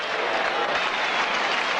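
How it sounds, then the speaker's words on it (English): A crowd at a 1982 Manly versus North Sydney rugby league semi-final applauds a player leaving the field, with steady, broad clapping filling the whole stretch, no lulls, heard alone. "Terry Randall being roundly applauded as he comes from the field"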